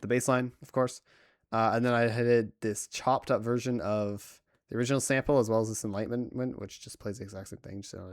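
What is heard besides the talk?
No everyday noises stand out.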